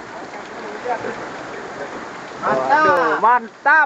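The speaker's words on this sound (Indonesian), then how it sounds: "Lagi hujan, strike lagi." Steady rain patters and hisses throughout during a fishing outing, a continuous wash of falling water; a man exclaims excitedly over it near the end.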